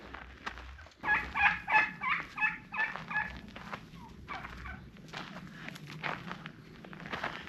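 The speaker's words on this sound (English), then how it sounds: "wild turkeys here" Wild turkeys gobble in a spring mountain forest, a male among several hens, with a burst of loud rattling gobbles up close and scattered softer calls and rustling footsteps afterward.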